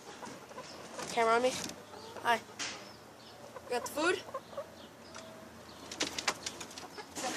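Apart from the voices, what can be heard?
chickens clucking at feeding time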